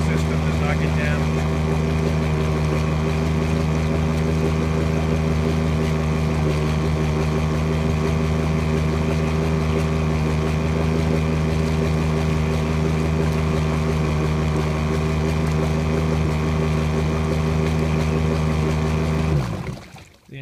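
An Evinrude E-TEC outboard engine runs its winterizing sequence, a steady close droning idle with strong low harmonic hum that holds unchanged for about twenty seconds before cutting off abruptly.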